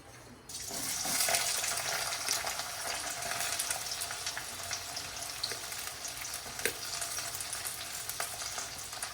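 Onion hits hot oil in a kadai and bursts into loud, steady sizzling and crackling that carries on with scattered pops, with no one talking over it.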